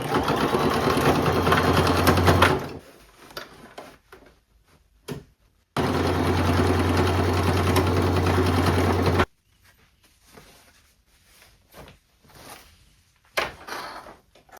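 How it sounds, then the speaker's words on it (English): A domestic sewing machine stitches darts in denim in two loud, steady motorized bursts of rapid needle chatter, separated and followed by quieter handling clicks and fabric rustles close by. "Now we can sew all of our darts."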